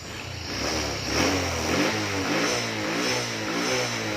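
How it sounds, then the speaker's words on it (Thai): A Honda Wave 110i motorcycle engine revs after a repair, a close, steady buzzing drone swelling gently up and down through the short run with no talk. "เดี๋ยวเราลองเร่งดูนะครับ"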